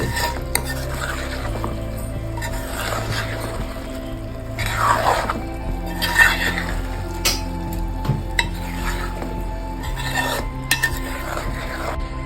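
Soaked rice for Nellore chicken pulao is gently stirred in a pot, giving repeated gritty scraping and rasping strokes in an uneven rhythm, close and fairly loud, with no voice.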